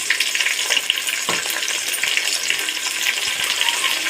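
Tomatoes and onions fry in a pan for potato biryani, giving a steady, close crackling sizzle with occasional stirring scrapes and no voices.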